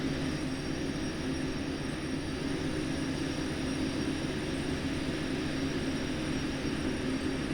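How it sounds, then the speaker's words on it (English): Faulty locomotive engine in the train simulation game Derail Valley, a loud, constant droning roar with a steady low hum and no voices, running unchanged throughout. "So to me, I've got like a faulty engine."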